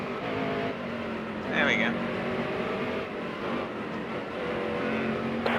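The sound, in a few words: race car engines in NASCAR Heat: Evolution video game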